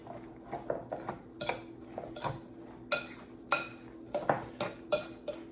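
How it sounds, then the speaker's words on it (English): A utensil stirs grated russet potatoes and eggs in a bowl, sharp clinks and scrapes against the bowl's side ringing out in an uneven rhythm, close and fairly loud. "it's mixing up really nice right now"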